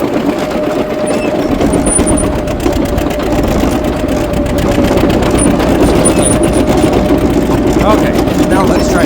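A loud International TD-6 crawler tractor engine runs steadily throughout, a dense low rumble with a faint metallic clatter, staying close and constant with no pauses.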